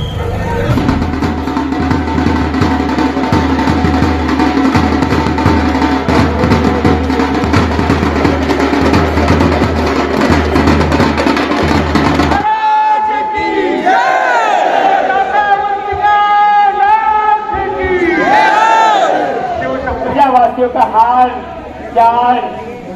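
A huge crowd of devotees fills the roads during the Mahakal procession in Ujjain, producing a loud, continuous roar of voices and shouting, which later gives way to chanting and talk nearby.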